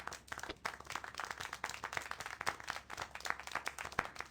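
Rapid, uneven clapping from a small group in a video game, sharp repeated hand claps continuing steadily throughout.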